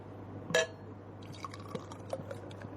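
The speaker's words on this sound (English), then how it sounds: "silence as we pour the beer" Beer poured into a glass: one brief splashing gush early on, then faint fizzing and sporadic drips and clinks in a quiet room, with no talking.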